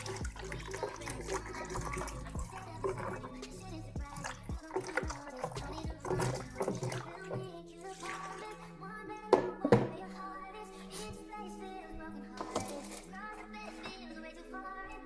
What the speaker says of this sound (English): I typically like to wash them once with just water and the second time with a bit of vinegar.